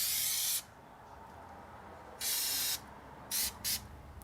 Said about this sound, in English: it's nice to clean up the rotor with brake cleaner to remove rust and other gunk